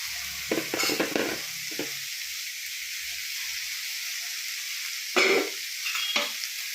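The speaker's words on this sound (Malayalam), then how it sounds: "നമുക്ക് അയല അരിഞ്ഞതില്ലേ, അതങ്ങ് ഇട്ട് കൊടുക്കാം" Chopped mackerel for a Kerala kodithoova thoran sizzles in a hot pan under a constant hiss, with bursts of spoon scraping and stirring at the start and again later, close by.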